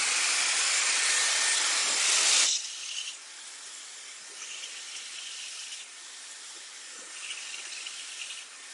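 A hair dryer with a concentrator nozzle attached blows during a short layered haircut, loud and full at first, then dropping to a steadier, quieter airflow hiss that wavers slightly as it is directed.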